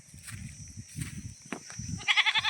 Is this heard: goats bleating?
yes